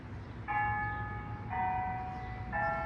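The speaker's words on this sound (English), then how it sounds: "There goes the chime." The noon town chime in Winnsboro, Texas rings out on Memorial Day: three sustained, ringing bell tones about a second apart, heard outdoors over steady background noise.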